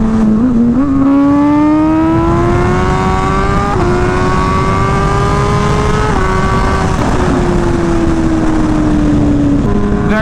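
A hyper naked motorcycle, a supercharged Kawasaki Z H2, roars loudly and close throughout a ride, its engine pitch climbing and shifting through gears with brief dips between, under steady wind rush.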